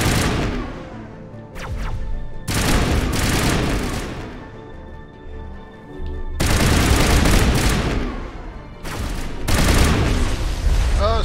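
Sniper gunfire in Mass Effect echoes in heavy, loud broadband bursts, with several sustained volleys separated by short lulls.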